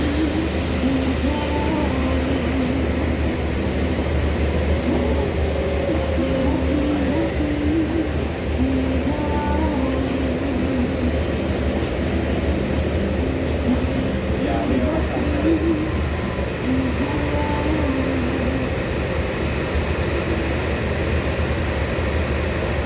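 Prambanan Express local passenger train running on the line near Wates, Yogyakarta, heard from on board as a steady, loud low rumble and drone with faint higher tonal whines throughout.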